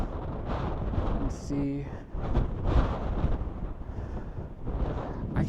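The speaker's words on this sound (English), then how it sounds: "See how it is in high wind." Strong wind buffets a microphone on a mountain hike in Guadalupe Mountains National Park, a continuous rough roar with gusts; a person speaks briefly beneath it.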